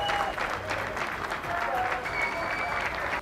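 Athletes at the Paralympics applaud the protesting Ukrainian team, close and sustained clapping mixed with crowd murmur and a few raised voices.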